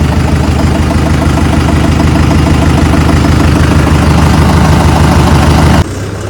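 A tractor engine runs steadily and loudly at close range, holding a constant idle-like drone before dropping abruptly to a slightly quieter level near the end.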